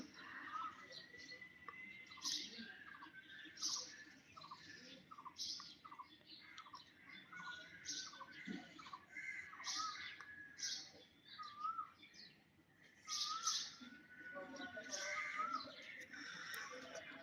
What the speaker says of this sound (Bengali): এখানে কোকিল ডাকার শব্দটা শোনা যাচ্ছে